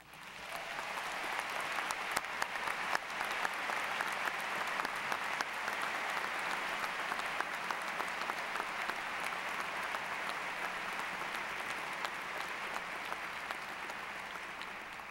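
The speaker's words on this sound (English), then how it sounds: "I ask that you honor them now with a round of applause." A university commencement audience gives faculty a sustained round of applause, a steady wash of many hands clapping in a large hall that holds for about fifteen seconds before easing slightly.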